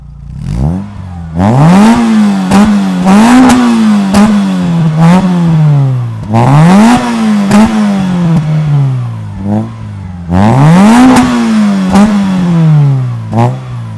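A prepared Citroën Saxo VTS engine revs hard three times, each blip rising sharply and falling back to a steady idle between them. The sound is loud and close, with no talking over it.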